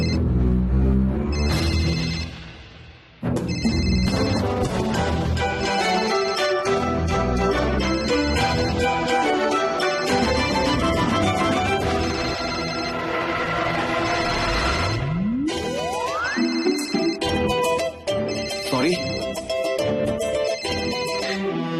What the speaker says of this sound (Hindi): इतने में तेरे फोन की घंटी बज गई भैया